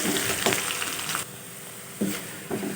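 Chopped onion and finely cut curry leaves are sautéed in a pan, a soft sizzle broken by a few sharp scraping stirs, quiet and close with no voices.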